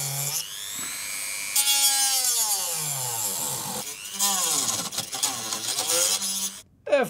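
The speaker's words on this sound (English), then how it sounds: "Nothing you can't fix with a Dremel." A Dremel rotary tool cuts into an Epson printer, whining loudly with pitch swooping down and up as it bites and frees up, in several bursts, then stops briefly before a final sharp screech.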